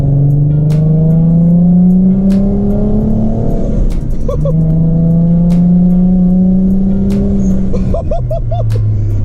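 A custom rear-mount turbo Infiniti G35 engine revs and accelerates loudly on boost under half throttle in the rain, its rising drone sweeping upward through several long pulls with brief turbo flutter between them.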